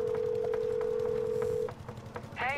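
A run of DTMF keypad tones from a phone in the Blair Witch video game, a steady held tone with evenly spaced beeps that cuts off, followed by a short rising chirp of a call connecting.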